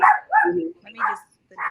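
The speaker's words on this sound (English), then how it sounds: "Sorry, that's my dog." Small pet dog barking indoors, a quick run of four sharp yaps and yips, close and loud, with a person talking briefly alongside.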